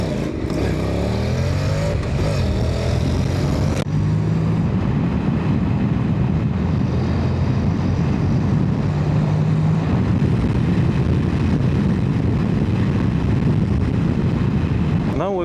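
Steady engine drone of a motorcycle while riding, loud and continuous with wind rush, heard from the rider's point of view with no talking.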